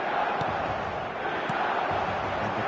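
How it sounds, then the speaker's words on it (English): A stadium crowd in Guadalajara in an eFootball match roars as a steady, dense wash of cheering from start to finish, with faint thuds scattered through it. "And the crowd here in Guadalajara, known for being hot."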